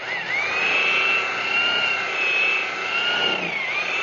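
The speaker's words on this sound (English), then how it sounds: "When you're buffing, you keep the pad at a slight angle to help cut" A variable speed buffer polishes automotive clear coat on a panel, giving a steady high-pitched whine that rises and falls slightly in pitch as the speed is adjusted, loud and close with no talking.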